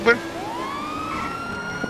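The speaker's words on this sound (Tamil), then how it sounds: "Why police siren?" Police car siren in the GTA V video game, a single rising wail sweeping upward and holding steady at moderate loudness, with a short sharp sound at the start.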